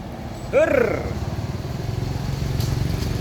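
A motorcycle engine idles close by with a rapid, steady knocking rattle, while a voice briefly speaks over it near the start.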